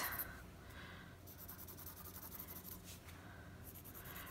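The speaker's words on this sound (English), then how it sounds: "Now I'm going to draw with my textures on this." Texture crayons scratch and rub across a plastic sleeve in a faint, steady stream of close drawing strokes, continuous with no pauses and no speech.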